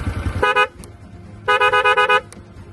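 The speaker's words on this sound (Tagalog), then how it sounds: "Rapid siya na loud horn." Two bursts of a loud, blaring horn on a Honda Wave 125S motorcycle, the second a rapid series of quick pulsing honks, with quieter rumbling between them.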